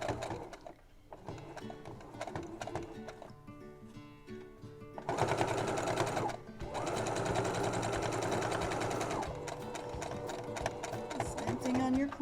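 A sewing machine top stitching the fabric of a soup bowl cozy runs in long steady bursts, loud and close, with a brief pause and a turn at a corner.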